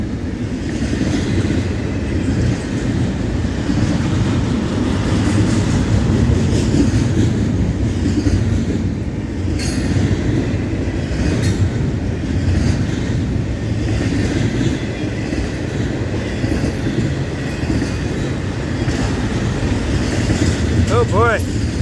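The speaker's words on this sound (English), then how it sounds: "long train today. Still can't see the end." A long Florida East Coast freight train, almost all intermodal cars, rolls past steadily and loudly for the whole stretch, with a continuous rumble and rail clatter and a faint squeal near the end.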